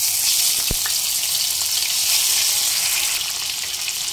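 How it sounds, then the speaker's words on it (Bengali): Prawns fry in hot mustard oil in a wok, giving a loud, steady sizzle that fills the whole stretch, with one brief clink near the start and no talking. "চিংড়ি মাছ হালকা ভেজে নিয়েছি, এবার উঠিয়ে নেব।"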